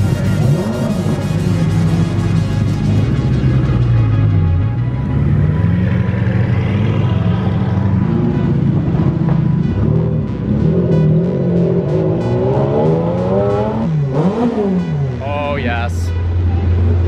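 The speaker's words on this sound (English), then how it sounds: "A good sounding 488. That's a dope exhaust." A Ferrari 488's deep exhaust rumbles and revs repeatedly up and down, loud and close, with a sharp rising blip near the end.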